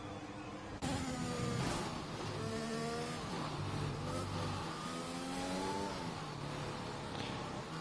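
Formula One cars in the F1 2021 racing game at the French Grand Prix, engines revving and whining loudly and continuously as several cars pull off the track together.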